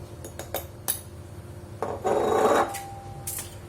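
Flour, sugar and baking powder are stirred together in a bowl for chocolate chip muffins, a few light clinks and a short dry scraping rub of utensil against the bowl, close and fairly quiet.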